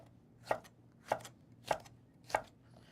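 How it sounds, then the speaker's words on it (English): Fennel being thinly sliced with a peeler, four evenly spaced crisp strokes about half a second apart, close and quiet, with no talking. "so I use a peeler. You want to just slice it really thin."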